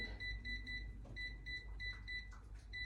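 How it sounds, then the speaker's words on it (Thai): Repeated short electronic beeps in quick clusters, fairly clear over a low steady hum, as a kitchen appliance cooking timer is set while cooking pork. "แล้วเราตั้งเวลาใหม่เลยค่ะ ตั้งเวลา ร้อยแปดสิบ"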